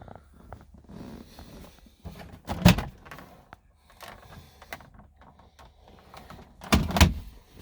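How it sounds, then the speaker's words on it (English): Rear hatch of a 2005 Ford Excursion being opened: soft handling clicks and rustles, then two sharp, loud latch clunks a few seconds apart. "Go through the back and we'll pop the back open."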